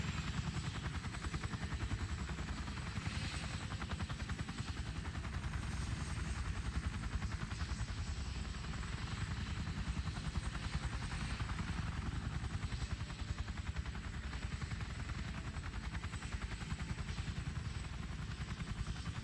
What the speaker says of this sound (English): Look, it's a gunship from Call of Duty.